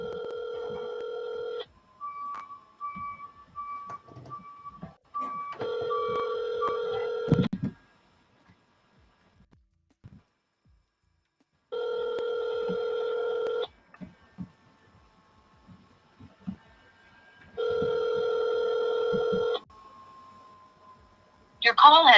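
A phone call being dialed and ringing: a quick run of keypad dial tones, then repeated long ring tones separated by silent gaps, with faint voices between the rings.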